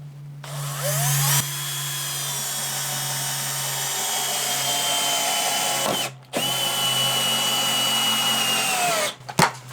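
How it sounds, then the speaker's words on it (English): Power drill driving large screws into a barn roof, whirring steadily at close range with two brief pauses between screws and no talking. "So we'll just screw them on like so."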